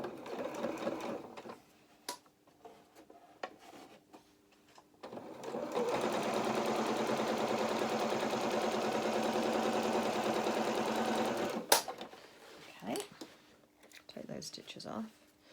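A sewing machine runs a steady, continuous stitching burst for several seconds, double-turning and sewing down the hem on the edge of an anorak sleeve, with quiet talk and handling noises before and after.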